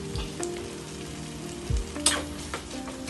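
Tomato egg curry in a pan, a soft frying sizzle under a few scrapes and knocks of a spoon stirring, close and fairly quiet with no talk.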